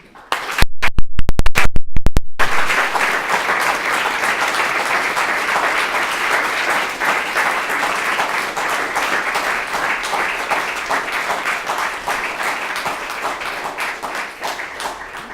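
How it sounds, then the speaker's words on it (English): Sustained applause from a large audience welcoming Taoiseach Leo Varadkar, TD, to a morning address, opening with a louder burst before settling into steady, dense clapping that continues without talk. "if you could please put your hands together and join me in welcoming Taoiseach Leo Varadkar, TD"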